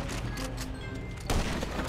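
Gunfire in GTA V Online, a dense burst of shots over a steady game background, with a louder broadband blast about two thirds of the way in and no talk.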